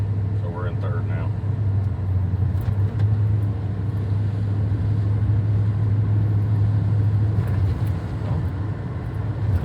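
A 1997 Ford F250 HD pickup driving in third gear, a steady low engine drone with road rumble from inside the cab, loud and continuous, with a person talking over it at times.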